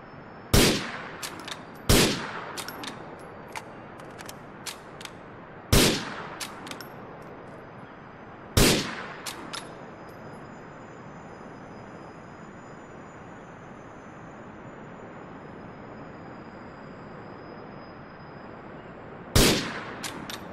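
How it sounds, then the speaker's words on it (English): Grenades bursting in GTA 4, a handful of sharp, loud detonations spaced irregularly over a steady ambient bed, some followed by faint debris clatter, with a long quiet gap before a final blast. "If you can't see anything else from up here, you'll see these grenades going off"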